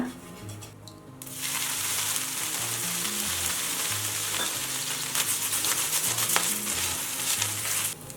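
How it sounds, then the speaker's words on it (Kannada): Oil sizzles loudly and steadily on a hot dosa griddle, a dense close hiss that starts suddenly after a quieter moment and runs unbroken with faint scraping. "ಹಂಚು ಕಾಯಕ್ಕಿಟ್ಟಿತ್ತು. ಮೊದಲು ಒಂದು ಸ್ವಲ್ಪ ಎಣ್ಣೆ ಸವರ್ಕೊಳ್ಳೋಣ."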